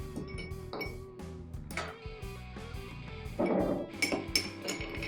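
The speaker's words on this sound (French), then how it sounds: "Et là, on va ajouter quelques glaçons." Ice cubes clink and rattle into a glass for a cognac cocktail, bright clattering knocks and a louder tumbling burst over soft background music.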